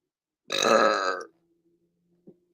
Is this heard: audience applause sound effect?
no